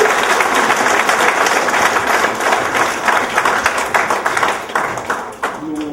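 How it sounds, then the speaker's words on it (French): A crowd at a pastor's ordination service breaks into a big round of applause, loud, close clapping from many hands with scattered individual claps standing out, fading slightly near the end with a few voices underneath. "Vous pensez au flambeau divin mérité un pic gros applaudissement."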